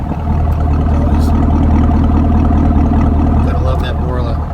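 A 2016 Chevrolet Camaro SS fitted with a Borla exhaust and Eibach lowering springs idles nearby with a deep, steady, loud low rumble that holds constant throughout.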